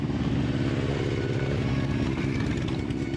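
Motorcycle engines rumble steadily and loudly at a children's festival in Rameshki, where bikers give rides, a continuous throbbing idle with clattering mechanical texture and no talk.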